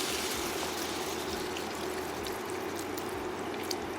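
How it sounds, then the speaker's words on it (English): Chicken stock pouring steadily into a pan with a continuous splashing, trickling wash, close and moderately loud throughout, with no voices. "Pour half of the chicken stock in here."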